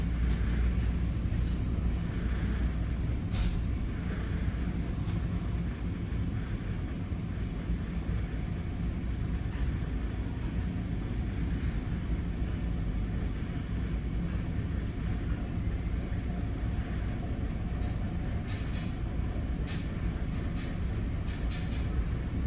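Riding aboard an NJ Transit train hauled by an ALP-45DP locomotive on the old CNJ line toward Raritan: a continuous loud low rumble of wheels and car noise, steady throughout with faint rattles.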